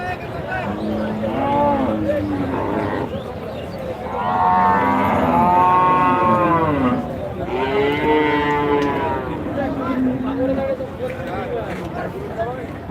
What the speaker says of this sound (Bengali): আমরা এই মুহূর্তে দেখতে পাচ্ছি বিশাল ষাঁড়